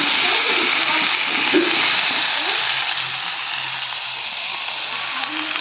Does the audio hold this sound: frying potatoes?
yes